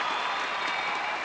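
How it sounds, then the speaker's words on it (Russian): Spectators in a sports palace at a judo European championship break into sustained applause, a dense, steady wash of clapping filling the hall throughout. "И вот под гром аплодисментов,"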